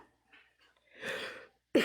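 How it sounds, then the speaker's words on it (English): A few faint throat sounds lead into a clear, close cough, followed by a sharp second burst at the end. "I don't mean to cough into the live like that"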